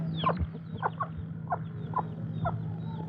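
A rooster clucks in several short, separate bursts about half a second apart while being fed, fairly close, over a steady low background hum.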